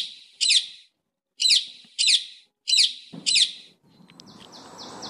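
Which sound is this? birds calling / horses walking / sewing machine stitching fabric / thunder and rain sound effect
birds calling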